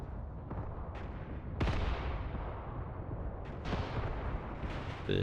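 Mortar rounds land in the Mius Front war game as a handful of separate deep booms, roughly three heavy impacts spread over a few seconds against a constant rumbling battlefield background.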